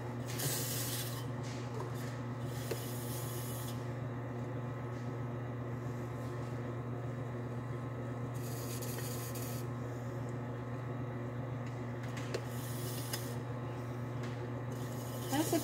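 A beginner wet-trimming a clay bowl on a spinning pottery wheel: a steady motor hum runs throughout, with soft, even scraping and brief hissy swells layered on top, close and moderately quiet.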